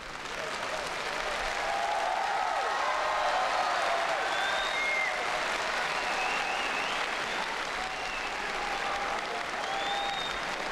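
Steady applause from an arena crowd at a 2008 World Cup gymnastics event in Tianjin, sustained and fairly loud throughout, with no voices standing out.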